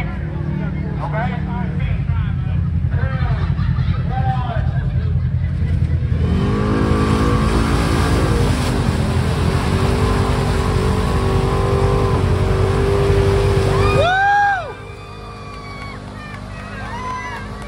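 Mud racing vehicle at the Mud Nationals revving hard at full throttle, a loud sustained engine roar with a sharp rise midway that cuts back abruptly near the end, with crowd voices and talk underneath.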